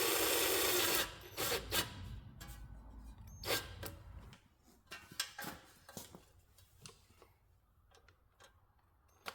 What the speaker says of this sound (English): just screw them right into the rubber